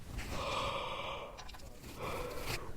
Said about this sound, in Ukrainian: Відкриваємо рота і робимо глибокий вдих.